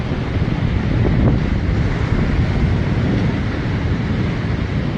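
Ocean waves wash steadily onto a hazy Southern California beach at Strands and Salt Creek, a continuous loud roar of surf mixed with wind buffeting the microphone, with no talking.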